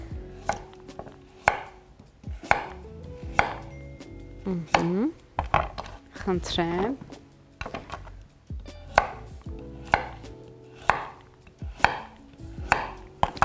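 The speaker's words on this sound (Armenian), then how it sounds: "Ահա, գազարը եւս փորձենք կլոր շերտերով կտրատել։" A knife cuts a carrot into round slices on a board, giving a steady run of sharp chopping thunks, close and loud. A voice speaks briefly, and a few sizzle-like scraping sounds fall in the middle.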